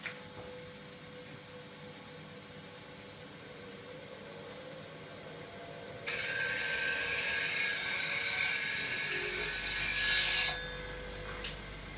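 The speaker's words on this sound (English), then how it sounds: "It takes longer for the tool for the grinder to wind up than it does to sharpen the tool." A bench grinder sharpening a woodturning tool for turning an oak treasure box, with a loud, steady hissing grind that starts abruptly and stops again after about four seconds over a quiet motor hum.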